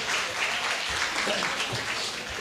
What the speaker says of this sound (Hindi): एक अच्छा ताली बजाएं प्रभु यीशु मसीह के लिए